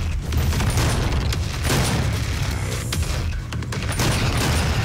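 Heavy, continuous gunfire from a weapon in the video game DOOM, dense rapid booms and bursts that stay loud and close throughout with no talking.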